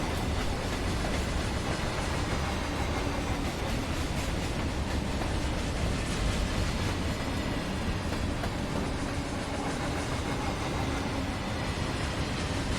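A loaded BNSF freight train with distributed power units rolls past in the Run 8 Train Simulator game, a loud continuous rumble and rail roar that holds steady throughout with no talking.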